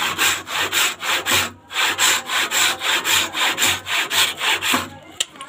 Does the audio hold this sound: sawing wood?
yes